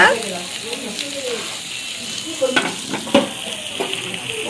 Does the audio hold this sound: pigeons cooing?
no